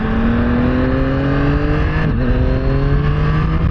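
A Yamaha MT-09 SP motorcycle ridden through a tight 90-degree corner, its engine a loud, close, steady drone heard from the saddle, with one brief dip in pitch partway through as the revs shift, and no talking.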